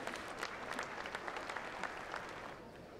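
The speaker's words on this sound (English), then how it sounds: "Let's give these exhibitors and their animals a big round of applause." Audience applause ringing out at the Grand International Red and White cattle show, a steady patter of many hands clapping throughout with no talk over it.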